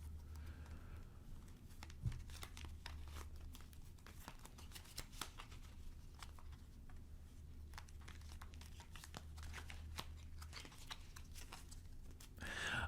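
Tarot cards are shuffled by hand, giving a quiet, continuous stream of soft papery crinkles and light taps that repeat steadily with no voices.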